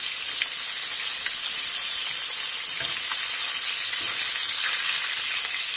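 Chicken sizzles steadily in a hot pan while being seared on both sides, a dense, continuous frying hiss with a few soft clicks and shifts, close and fairly loud, no voices.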